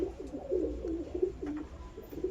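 A Teddy pair of high-flying pigeons sits incubating eggs in a loft, giving repeated low rhythmic coos in steady pulses, close and moderately soft, with no voices.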